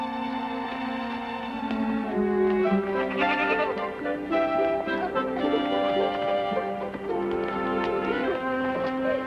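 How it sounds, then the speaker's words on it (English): Goats bleat loudly and repeatedly at close range, their quavering calls overlapping and running almost continuously for around nine seconds. "Come on, you silly goat. Get moving."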